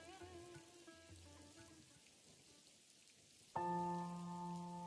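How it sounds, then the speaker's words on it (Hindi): Light drizzle falls as a soft, steady patter, heard under sustained musical tones that swell louder near the end. "अगली सुबह आसमान में घने काले बादल छाए हुए थे और रिमझिम फुहारें पड़ रही थीं"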